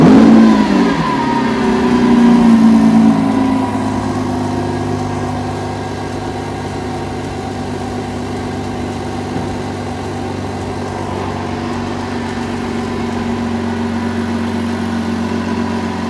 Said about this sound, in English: That is the exhaust sound.